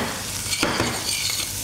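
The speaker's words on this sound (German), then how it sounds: "Rühren das alles schön durch." Chopped garlic clove stirred and sizzling in a hot pan, a close, bright crackle with a few scraping stirs of a utensil across the pan in a short burst.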